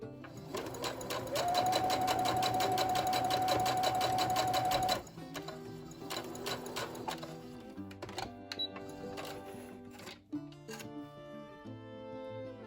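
Sewing machine stitching fabric pieces together with a quarter-inch seam for a scrappy dog dress, a fast, loud, steady run of needle strokes for about five seconds, followed by scattered clicks and handling noises.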